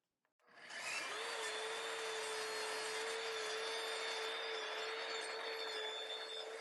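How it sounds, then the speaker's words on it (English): A table saw cutting wood in a workshop, starting after a brief click and then running as a loud, steady whine with a constant hum, with no voices. "I'm going to set the kickback thing so that it won't go backwards, and I'll make my cut."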